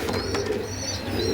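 A pigeon at a market pigeon sale gives soft, rolling coos close by, repeated over a low background murmur, with no clear speech.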